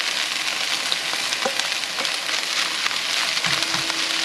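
Chicken pieces frying with onion in a pan, a dense steady sizzle close up, with occasional soft clinks and stirring scrapes under the constant crackle.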